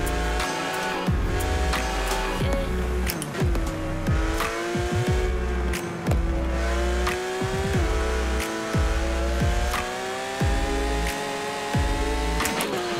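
A Porsche 911 GT3 RS engine in the racing video game Forza Horizon 4 revs high and steady, with the pitch climbing and dropping sharply at repeated gear shifts, loud and alone throughout.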